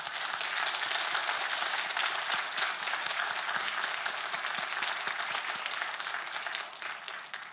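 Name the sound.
congregation applauding in church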